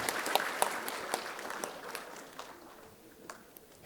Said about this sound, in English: Ladies and gentlemen, please give them a huge round of applause.